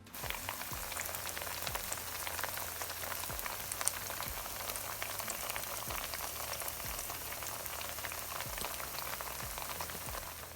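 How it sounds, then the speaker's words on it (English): Steady, close crackling and sizzling of plantains frying in hot oil, with a continuous hiss and scattered pops throughout. "let them go on and bubble away, frying"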